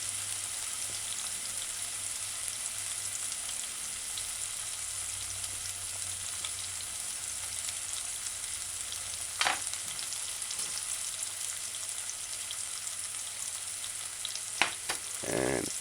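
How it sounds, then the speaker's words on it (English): Ginger dropped into sauteing onions and diced scallion for a broad bean pepper stew, a steady close sizzle of frying throughout with a few sharp clinks of utensils near the end. "And add your ginger to the sauteing onions and the sauteing scallion, diced scallion"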